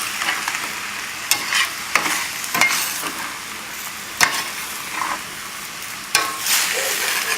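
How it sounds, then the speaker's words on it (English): Chicken, brown basmati rice and lentil stew are mixed in a pot over a continuous soft sizzle, with repeated close scrapes and knocks of the spoon at an irregular rhythm, no voices. "This will be about 3-4 minutes of mixing."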